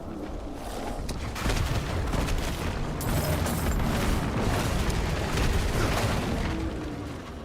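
Demonic fire erupts in a video game as a continuous barrage of heavy explosions and booming blasts, loud and dense throughout with no pauses.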